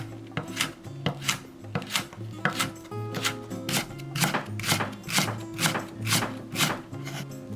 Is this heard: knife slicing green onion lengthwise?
yes